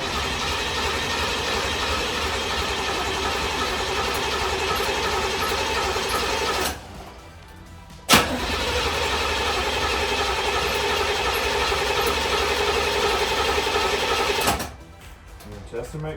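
Engine being cranked and started, a steady mechanical whirring that runs for long stretches, drops out briefly twice, and resumes after a sharp click, with no talk.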